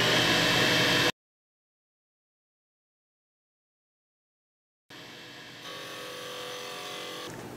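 A skew chisel cuts wood on a spinning lathe, giving a close, hissing, whirring shave that stops abruptly and falls into several seconds of silence before the turning noise resumes.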